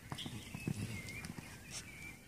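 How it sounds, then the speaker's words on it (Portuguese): Hoofbeats of a horse cantering in a riding lesson, a soft rhythmic clip-clop repeating at moderate distance over low arena ambience. "Continua galopando sem se mexer."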